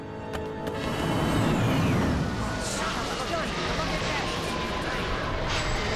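A cartoon fighter spaceship comes in to land with a loud, continuous roaring engine rumble and descending whine that swells early and holds steady, with voices talking over it.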